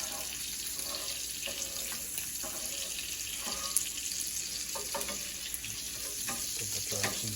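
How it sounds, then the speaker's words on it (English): Steak sizzles in hot butter in a tilted pan over high heat, with butter spooned over it for basting. A steady, dense frying hiss runs throughout alongside faint clinks and scrapes. "you take the pan, tilt it forward, pick up some of the butter with the spoon"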